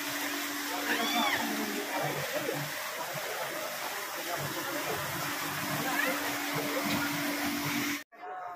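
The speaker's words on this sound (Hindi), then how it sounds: "नीचे झरना बह रही है।" Steady rushing water from a waterfall pouring nearby in Gujarat, near Poicha, a continuous broadband roar with faint voices underneath, cutting off briefly near the end.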